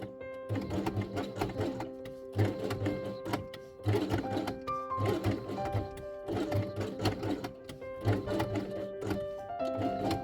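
A sewing machine stitches Velcro onto felt pieces for an Easter quiet book, running in rapid bursts of clattering needle strokes separated by short pauses and thunks, close and fairly quiet.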